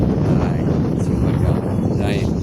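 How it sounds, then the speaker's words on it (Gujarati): Gusty wind buffets the microphone on a hilltop near the Shihor Mataji temple, a constant close low roar under a speaking voice. "અહીંથી પવન જ એવો ગજબ આવે છે"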